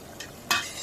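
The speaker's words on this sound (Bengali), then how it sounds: "আদা রসুনের বাটা দিলাম। এখন কষে নিব" Ginger-garlic paste sautéed in oil and stirred in a pan for a bitter gourd and stinging catfish curry: two short scraping stirs with a brief sizzle, the second louder, over a quiet background.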